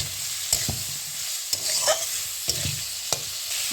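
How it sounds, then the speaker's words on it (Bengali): Potato, Malabar spinach stems and fried wild mushrooms sauté in a pan, with a steady sizzle and a spatula scraping and stirring in occasional sharp clicks. Nobody talks. "এতে দিয়ে দেবো আলু পুঁই ডাটা ও ভেজে রাখা ছাতু দিয়ে একটু এগুলি কষিয়ে নেব"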